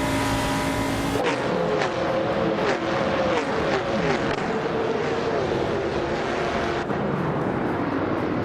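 Race cars in a racing video game, loud continuous engine roar with sweeping whines and rapid gear-shift pulses as cars overtake, an abrupt change near the start and another near the end.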